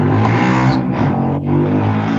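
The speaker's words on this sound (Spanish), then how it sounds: "se escucha un ruido de moto" A motorcycle engine drones steadily in the background, picked up by a participant's open microphone during an online class, with a dip in pitch midway.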